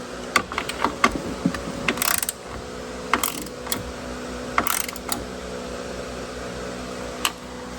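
A ratchet snugs the bolts of a tow mirror on a 2003-2007 GM truck, giving quick bursts of close, crisp mechanical clicking with short pauses between them.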